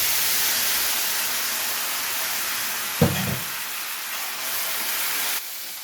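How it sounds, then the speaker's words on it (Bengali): Onion paste frying in hot oil for a prawn malai curry, a steady loud sizzle with a brief clatter of stirring midway before the hiss softens and drops. "এবারে পেঁয়াজটাকে ততক্ষণ ভেজে নেব যতক্ষণে না পেঁয়াজের কাঁচা গন্ধটা চলে যাচ্ছে"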